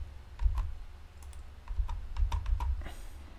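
A series of light, close computer mouse clicks while working in the Unity editor, scattered irregularly with short pauses between them, against a faint room hum.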